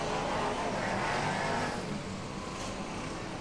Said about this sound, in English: round turns 1 and 2 they go with Eaton in 61